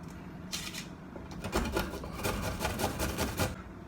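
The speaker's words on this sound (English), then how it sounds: "For my ginger and garlic, I'm just going to use a grater to get them nice and small very quickly." Fresh ginger and garlic rubbed on a kitchen grater, a quick run of rasping strokes in a steady rhythm, close and fairly loud with no voices.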